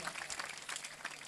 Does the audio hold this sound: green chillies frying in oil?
no